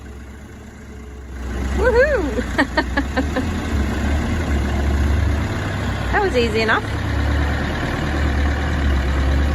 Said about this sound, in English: our neighbour was kind enough to come across to pull him out with his tractor.